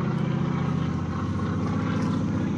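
A low-flying propeller airplane passes loudly overhead, its steady droning engine roar filling the air throughout with no talk over it.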